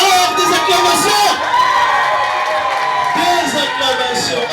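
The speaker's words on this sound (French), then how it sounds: "Alors, des acclamations!" Wedding dinner guests cheer and shout together in a lively, sustained crowd roar, with whoops and excited voices overlapping throughout, loud and close.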